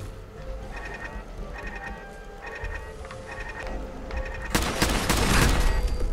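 Gunfire in the video game Fallout 4, Nuka-World: repeated short bursts of shots in an even rhythm, then a louder, denser barrage of noise toward the end, with no voices.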